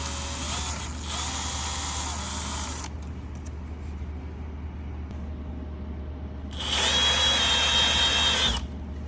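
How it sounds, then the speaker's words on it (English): A power drill bores into the fender area of a BMW M4, whining loudly in two bursts separated by a quieter pause, close and with no talk. "so we are gonna go ahead and start drilling"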